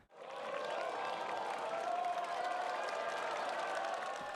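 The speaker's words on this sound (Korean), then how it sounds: "후배들은 응원의 함성과 박수로 선배들의 고득점을 기원했습니다" A crowd of younger students sends off seniors before their exam with cheering and applause. The clapping and shouting hold steady and fairly close for several seconds, with no break.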